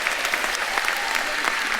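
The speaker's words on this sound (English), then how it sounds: "Let's all give each other a round of applause." An audience at a VCU School of Social Work commencement ceremony applauds steadily, a dense, even wash of clapping from many hands throughout.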